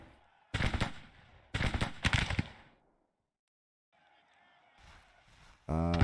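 Musket fire from skirmishers in the Civil War strategy game Grand Tactician, heard as a few separate crackling volleys with gaps of near silence between them, followed by fainter battle noise and a final sharp burst.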